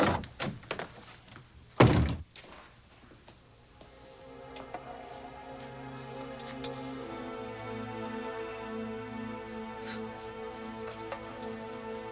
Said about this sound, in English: Pull the door closed.